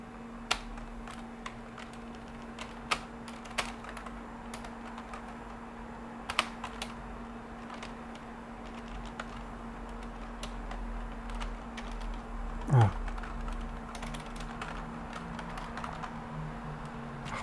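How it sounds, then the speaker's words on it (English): Keys clicking at a steady, sparse pace on an IBM RS/6000 workstation keyboard, close and crisp over a constant electrical hum, with one louder knock near the end and no talking. "what do I even type here?"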